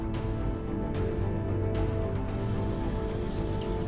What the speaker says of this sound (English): Denise gets right to it and transmits the first whistles.